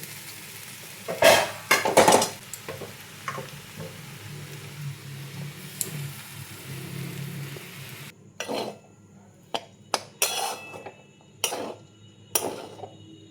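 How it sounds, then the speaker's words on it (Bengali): A spoon scrapes and stirs soaked semolina frying in a pan for upma, with a soft sizzle underneath, sharp clinks and taps against the metal coming in bursts, louder early on. "4 মিনিট মতো ভাজবো।"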